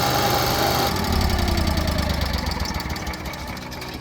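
A motorhome's engine runs steadily just after an oil change, a loud mechanical idle with a constant vibrating chug that eases slightly in level toward the end, with no voices.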